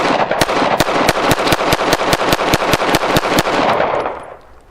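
A GForce Exodus RPX9 9mm pistol, a Glock 19 clone, fires 115 grain ammunition in a rapid string of about fifteen loud, sharp cracks at an even fast cadence, each shot ringing into the next before trailing off.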